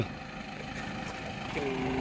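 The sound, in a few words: Ford tractor engine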